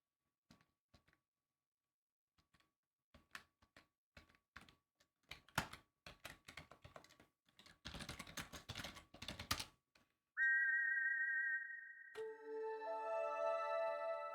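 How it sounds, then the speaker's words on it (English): Keyboard clicks of typed commands in King's Quest IV (1988), then the silver whistle: a loud, sustained synthesized tone that shifts into a layered, chiming chord, bright and steady for several seconds. "You put the shiny silver whistle to your lips and forcefully blow into it"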